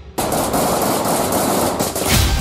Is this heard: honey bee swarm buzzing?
no